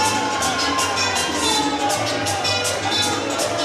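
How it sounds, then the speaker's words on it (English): A ringside crowd at a CCW Hialeah Heat pro wrestling show in Hialeah cheers steadily on its feet, with dense, continuous roaring, whoops and shouts that hold at full volume for the whole stretch. "they're on their feet cheering their man on"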